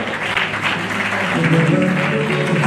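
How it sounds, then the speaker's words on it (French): A church congregation applauding at a school prize ceremony, a dense steady wash of many hands clapping together, moderately loud and sustained, with a faint voice underneath. "on acclame le Seigneur"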